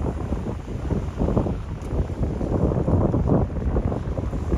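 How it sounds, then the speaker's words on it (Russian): Heavy storm surf on the Black Sea shore at Adler crashes and roars continuously while gusty wind buffets the microphone, a loud, rough wash of sea noise with no voices. "Смотрите, какие сильные волны."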